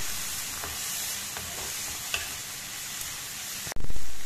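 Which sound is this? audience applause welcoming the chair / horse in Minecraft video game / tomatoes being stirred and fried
tomatoes being stirred and fried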